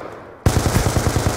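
Rapid automatic gunfire from a competitive online shooter match kicks in abruptly after a short quiet lead-in, then continues as a steady, loud, evenly spaced burst of shots.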